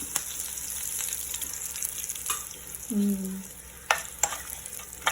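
Curry leaves dropped into hot tempering oil for buttermilk rasam, a soft steady sizzle close by with a few sharp crackles and pops near the end, and no talking.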